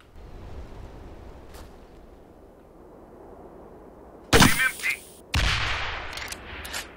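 Weapon fire in the 2011 Xbox 360 game Breach: two loud, sharp blasts about a second apart, each with a ringing tail, break through a low background hum.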